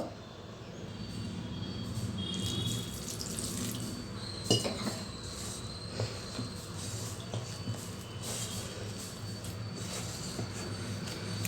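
Water trickles into rice chapati dough in small additions, a soft continuous pour with faint clinks of a bowl, steady and close.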